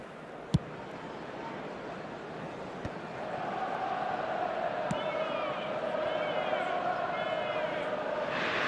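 A stadium crowd in an eFootball match between Man Utd and Inter Milan roars and cheers, swelling into a sustained broad din with a few sharp knocks and a commentator speaking over it.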